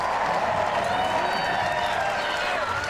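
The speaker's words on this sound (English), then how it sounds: "Listen to the crowd." A stadium crowd cheers steadily through a track race at the University of Oregon venue, a loud, continuous roar with scattered applause that swells slightly without ever breaking.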